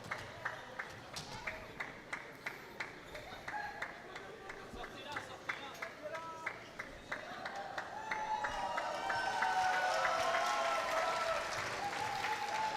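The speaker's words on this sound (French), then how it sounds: "Sous les applaudissements de la Brandt Arena" A crowd at the Brandt Arena applauds during a women's tchoukball match between Italy and Switzerland, starting as scattered claps and swelling into fuller applause while a commentator talks over it.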